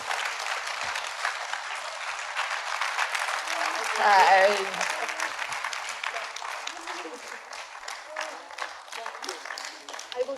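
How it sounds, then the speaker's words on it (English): Warm applause from an audience greeting a guest at a talk event, steady moderate clapping throughout, with a brief spoken greeting near the middle. "May you have a warm applause"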